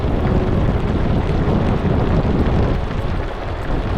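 Loud, steady monsoon wind roars across the microphone with rain mixed in on the Irshalgad fort trek in Maharashtra, a dense continuous rush that barely eases for the whole stretch.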